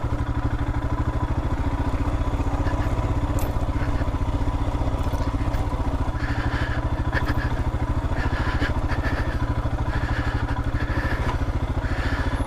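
Motorcycle engine running steadily while the bike rides a muddy green lane, a constant close mid-pitched thrum with faint clatter and occasional thumps over the whole stretch.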